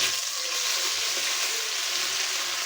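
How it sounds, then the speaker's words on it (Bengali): Browned onions and taro curry sizzle and fry steadily in a wok, a continuous close crackling hiss with no talk. "আমি কড়াইতে তরকারিটা রান্না করবো পেঁয়াজটা বেরেস্ত হয়ে গেল সেটা আমি দিয়ে দিলাম"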